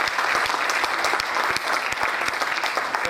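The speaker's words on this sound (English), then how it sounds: "So let's clap for planning" Audience applause at a company annual family day event in Mumbai: steady, dense clapping from many hands, held at an even level throughout with no voices on top.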